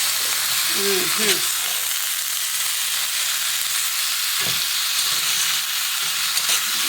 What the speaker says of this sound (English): look at that butter getting up in that pan